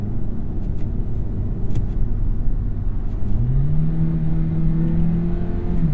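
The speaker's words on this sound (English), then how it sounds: "So you can actually shift this big clunky shifter here down into different gears." A 2021 Hyundai Elantra Hybrid Limited revs under a manually selected gear, a steady loud engine drone with a rising whine that climbs and holds toward the end, no talking.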